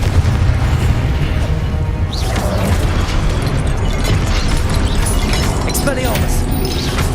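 A Confringo spell blasts in Hogwarts Legacy with booming low rumble and crackling bursts that fill the whole stretch, heavy and continuous rather than a single crisp hit.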